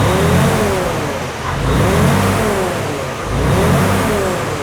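Freightliner Cascadia truck engine revving hard as the pedal is pressed and released, rising and falling in repeated loud surges, close and steady with no talk.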